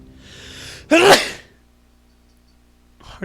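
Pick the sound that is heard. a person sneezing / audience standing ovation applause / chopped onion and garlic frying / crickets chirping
a person sneezing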